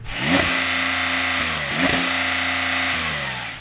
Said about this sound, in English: Let's have a listen, Rory, to your flat 6.